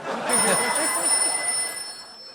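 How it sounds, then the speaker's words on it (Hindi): A telephone rings loudly and close, a sharp electronic bell trill repeating for a couple of seconds before cutting off, in a Comedy Circus comedy sketch. "भारती का फोन"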